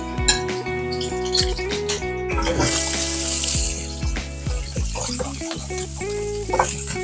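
Grated ginger, garlic and finely chopped green chillies sauté in hot oil in a pan, a loud hiss and sizzle with scraping stirs, under steady background music.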